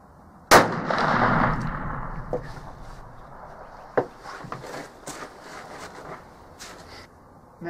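A single loud, sharp blast from a Traditions Pursuit muzzleloader rifle loaded with Blackhorn 209 powder, followed by a rolling decay over about a second, then faint scattered clicks and shuffling.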